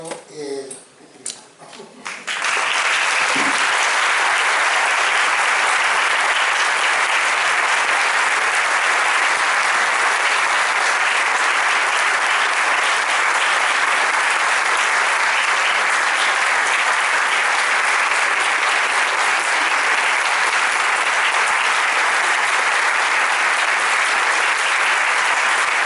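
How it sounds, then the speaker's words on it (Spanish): After a brief moment of speech, a large lecture-hall audience breaks into loud, sustained applause that holds evenly and dense for over twenty seconds, close and continuous. "el aplauso es muy indicativo de lo que sentimos"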